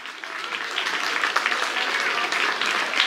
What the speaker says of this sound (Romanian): Haideți, vă rog, să-l aplaudăm.